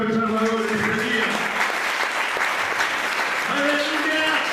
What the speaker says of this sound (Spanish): Denle un aplauso al Salvador en este día.